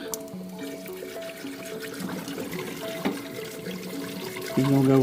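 Distilled water pours into the radiator of a 2006 Chevy Silverado 5.3, a steady close splashing and gurgling stream that keeps going throughout.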